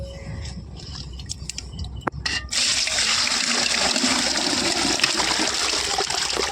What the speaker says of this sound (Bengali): জল ঢেলে দিলাম।